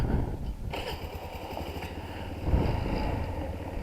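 Habana 125 motorcycle engine putters on a short test ride around the block, a low uneven chug that rises slightly as the bike pulls away, fairly quiet and close.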